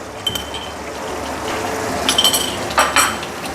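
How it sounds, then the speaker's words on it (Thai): Utensil clinks and scraping as coconut sugar is stirred into a Thai chu chee curry of crispy fried fish in a pot, light metallic taps clustered near the end over a steady background hiss. "ใส่ลงไปแล้วก็ คนผสมให้เข้ากันเลยนะครับ"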